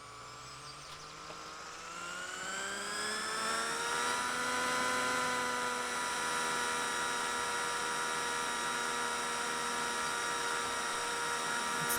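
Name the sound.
UH-1 Huey helicopter engine throttling up in flight simulator video game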